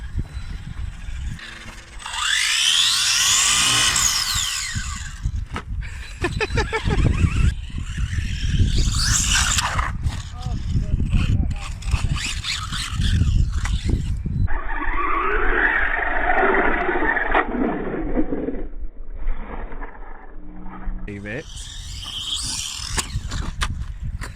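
A mini brushless RC burnout car drives around outdoors, its motor whining and tires scraping and skidding in loud bursts that come and go over many seconds.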